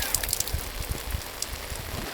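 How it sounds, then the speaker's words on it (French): Rainwater being collected patters and trickles steadily close by in Africa, with scattered drip taps over a soft continuous wash and no voices. "Récupération des eaux de pluie."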